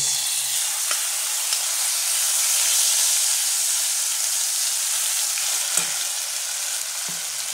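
Ground spice paste, hand-ground on a stone slab, frying in hot oil for Bengali hilsa fish curry, giving a steady bright sizzle and hiss throughout, with a few faint clinks and stirring scrapes, close, with no talk.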